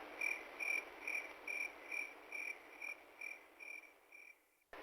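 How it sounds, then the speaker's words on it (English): Crickets chirping in a steady, regular pulse of about a dozen trilled bursts, close and clear over a faint background hiss, ending abruptly. "All right, I'm going to get those crickets back in their cage, at least for a little while."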